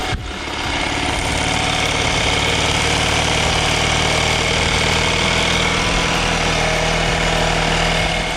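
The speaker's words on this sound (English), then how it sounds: "Idling nice and quiet too." A small outboard motor idles loud and close in flowing water, a steady low chugging hum with rapid knocking pulses that continues evenly throughout.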